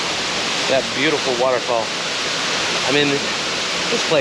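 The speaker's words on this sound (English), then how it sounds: "So you can get a first-hand experience of getting that beautiful waterfall." A waterfall at a hidden hiking spot in Kentucky pours as a steady, full rushing roar throughout, with a person talking over it in the middle stretch.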